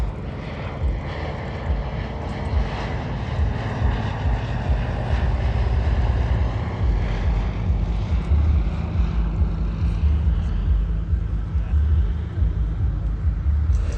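A Fairey Swordfish biplane flies past at an air show, its piston engine a steady low drone that swells louder toward the middle and then eases slightly as it passes.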